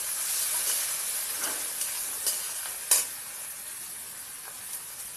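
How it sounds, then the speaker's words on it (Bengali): Steady hissing sizzle from a hot pan after water goes into a small-fish curry made with mango blossom, with a few faint clinks of stirring over the constant hiss and no talking. "জল দিচ্ছি"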